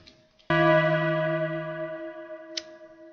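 An FM-synthesized bell with reverb strikes once, bright and metallic, then rings out and fades slowly with a reverberant tail; a faint softer tap follows near the end.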